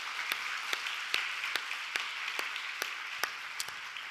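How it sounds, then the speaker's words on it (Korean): Church members clap together during a Friday late-night prayer meeting, with crisp claps landing in a slow, fairly regular rhythm over a steady background hiss. "박수해 주세요"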